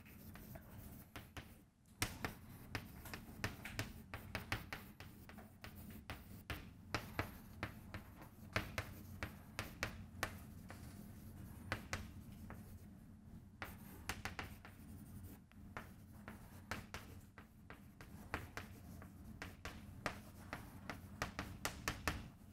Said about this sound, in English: I'll write the joke up here